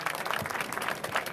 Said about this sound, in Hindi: आप ताली बजाकर क्लैपिंग करें उनके लिए